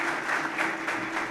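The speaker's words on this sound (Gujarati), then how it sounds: "એના માટે જોરદાર તાળીઓ દે." Enthusiastic audience applause at a motivational talk: a brief, steady wash of many hands clapping together, close and fairly loud, with no voices over it.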